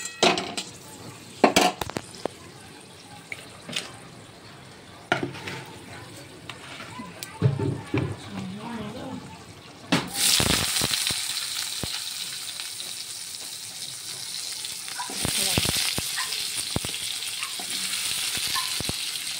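Vegetables tip into a hot pan after a panch phoron tempering and break into a loud, steady sizzle midway, with stirring and utensil clatter over it; quieter clinks and scrapes come before.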